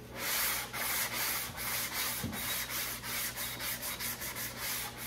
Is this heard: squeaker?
no